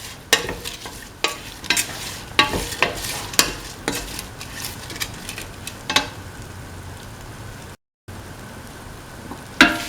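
A lentil stew mixture with snake gourd and coconut milk being stirred in a pot, a series of sharp, close scraping and clinking strokes over a soft bubbling sizzle, with a brief dropout near the end.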